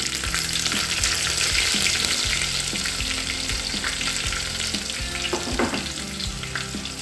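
Dried red chilies, curry leaves and onions fry in hot oil for a hotel-style sambar, giving a loud, continuous crackling sizzle broken by scraping stirs and a few sharp pops near the end, with no talking.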